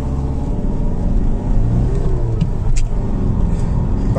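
In a drag race between a Honda WR-V and a Hyundai Creta, a car engine revs loud and close at high RPM in a sustained droning roar that rises and swells in pitch over several seconds.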